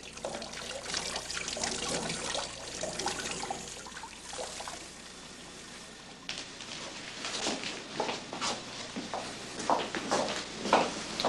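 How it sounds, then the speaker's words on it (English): Soap and water being used to wash a patient's neck in a hospital setting, with soft trickling, dripping and wet splashing that comes in irregular bursts, close by and fairly quiet. "Kelly, I'm going to wash your neck with some soap and water"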